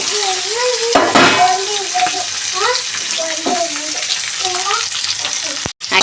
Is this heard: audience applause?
no